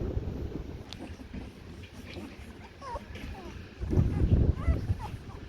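Maremma puppies whimper and let out small high yips over soft wind noise on a porch, with a burst of rustling and louder yelps near the end.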